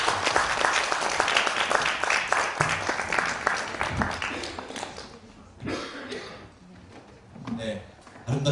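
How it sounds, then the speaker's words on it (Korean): Audience applause at a literary concert as three high-school students come onstage; crisp individual claps, dense at first, then thinning into scattered claps and a few coughs and murmurs toward the end. "박수로 받아주십시오."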